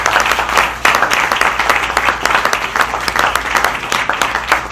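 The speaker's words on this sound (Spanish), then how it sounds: "Yo invito a que usted le dé un aplauso a Dios" A church congregation applauds in a dense, continuous wash of clapping that stays loud and even throughout, with a faint low hum of room sound beneath it.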